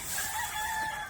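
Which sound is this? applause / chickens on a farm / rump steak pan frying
chickens on a farm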